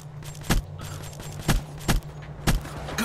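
Single gunshots in a Black Ops 3 competitive multiplayer match, fired at a steady rhythm of about one per second, loud and punchy over a constant background hum of game noise, with no talking.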